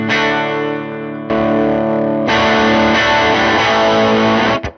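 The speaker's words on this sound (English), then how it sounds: "There's your typical tube screamer." Electric guitar driven through a Tube Screamer overdrive pedal into a Fender Bassman Tonemaster amp, three sustained distorted chords ringing loud and full, each struck fresh, before a sudden cutoff.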